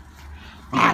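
A dog playing in snow gives a short, fairly loud whimpering burst near the end, after a quiet stretch of faint background noise.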